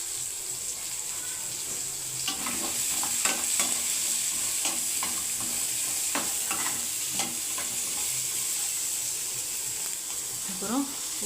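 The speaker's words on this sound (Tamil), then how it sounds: "இதிலே நம்ம எல்லாத்தையும் வதக்கி எடுத்துக்கலாம்." Onions and paneer sautéing in a pan, a continuous close sizzle with intermittent scraping and stirring clicks throughout.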